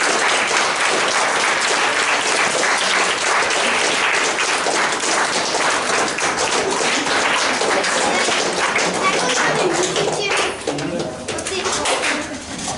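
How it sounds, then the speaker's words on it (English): A room of youth football players and families applauds the parents at a coach's farewell, with steady clapping that continues throughout, some voices mixed in, and a slight dip near the end. "let's give a round of applause to the parents"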